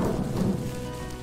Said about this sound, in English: it is 7 in the morning, and we have begun with a thunderstorm